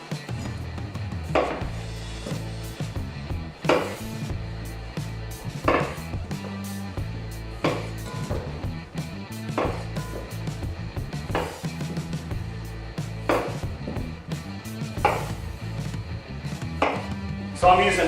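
Red-skinned potatoes, about eighteen to twenty of them, are dropped one after another into a roasting pan. The scattered thuds come over a steady background of low kitchen clatter.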